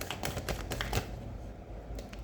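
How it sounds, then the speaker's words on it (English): A tarot card deck being shuffled up close, a quick run of soft papery riffling and tapping in the first second that trails off into quiet, with no voices. "I'm going to do one more shuffle"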